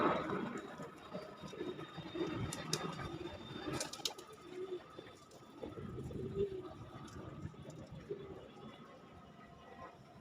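Racing pigeons, a mated pair, coo softly in low, repeated murmurs at close range, with a few faint clicks and rustles around them.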